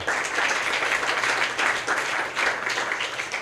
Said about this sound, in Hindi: मलिक बिट्टू साहब, इनके लिए क्लैपिंग करें